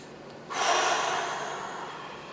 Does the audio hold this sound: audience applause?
no